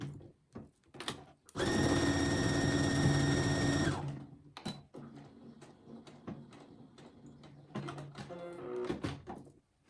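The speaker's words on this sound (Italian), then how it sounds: "andate a cucire a 1 centimetro dal bordo con un punto dritto" A sewing machine runs a steady straight seam on fabric for about two seconds, one centimetre from the edge, loud and close, with short clicks and handling noises before and after.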